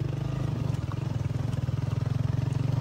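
A motorcycle ridden slowly while carrying goods home, its engine giving a steady, low, close chugging with an even rapid pulse throughout and no talk.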